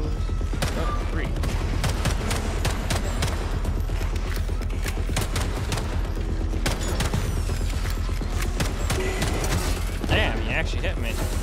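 Rapid gunfire in the video game Atomic Heart, dense and continuous, with loud shots crackling over a rumbling game soundtrack while a player talks throughout.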